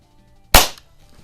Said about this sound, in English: let's go ahead and take a couple shots with it